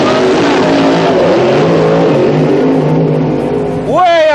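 A 1975 funny car drag racer does a loud burnout, its engine roaring with tire squeal that climbs to a sharp rev at the end, over an excited announcer's voice.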